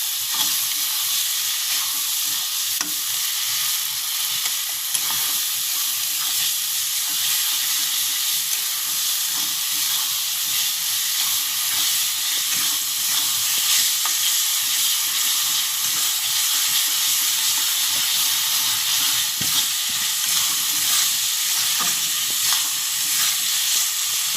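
Spice masala for palak paneer fries and is stirred in a hot pan, giving a steady, dense sizzle that holds evenly for the whole stretch with no voices.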